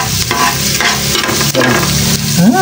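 Garlic sizzles and fries in a pan as it is stirred for chicken sinigang. Close, loud, steady sizzling mixes with scraping stirring strokes throughout.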